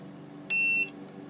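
A continuity tester beeps once with a steady tone lasting about a third of a second while solder joints on an HMV Super 5 valve radio are checked, over a low mains hum.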